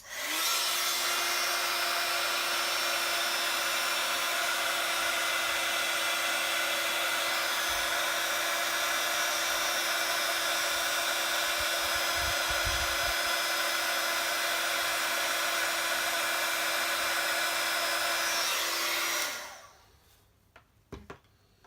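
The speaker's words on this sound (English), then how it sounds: "So I'm going to heat set this now." Heat tool blowing a steady, loud whirring rush of hot air to heat-set a stamped card, running continuously for about nineteen seconds before cutting off, followed by a few faint handling knocks.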